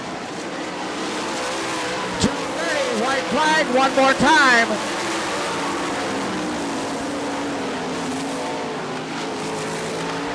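A field of sprint cars roars past on the Gibsonton, Florida dirt track at the All Star Circuit of Champions Winternationals, steady engine drone with sharp rising whines as cars sweep by, under a track announcer's voice.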